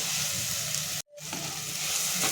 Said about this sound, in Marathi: कांदा टोमॅटोमध्ये एकजीव व्हायला पाहिजे असं आपण परतून घेणार आहोत